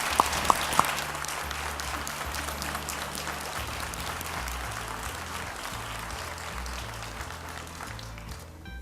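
An audience applauds Brazilian and Latin American B Corp leaders at a business talk, with continuous, even clapping across the room over a low, steady tonal background that fades near the end.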